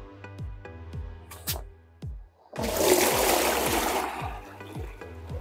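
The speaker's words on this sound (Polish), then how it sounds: "w pierwszej kolejności wleję wodę do kastry" Water gushes into a mortar mixing tub set up for mixing cement and sand, a loud splashing pour that starts about halfway through after several sharp clanks and knocks.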